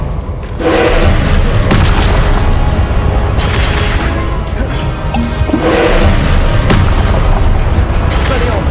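Spells fire in the Hogwarts Legacy video game, including the Confringo explosion spell, producing loud, dense booming blasts that roll continuously, with magical whooshes and crashes layered throughout at close range.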